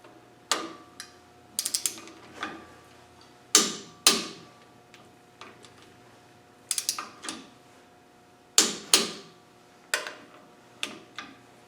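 A torque wrench set to 65 newton metres tightens bolts on a Land Rover 90 300Tdi wheel hub, giving repeated close ratcheting clicks in short bursts separated by quiet pauses.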